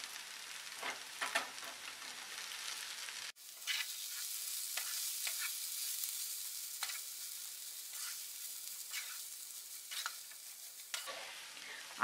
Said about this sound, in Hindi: अब हम मैगी को मसालों के साथ अच्छे से मिक्स करेंगे